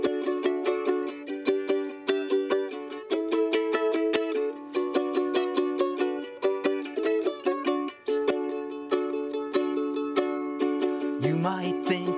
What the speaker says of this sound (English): my cool trick is playing the ukulele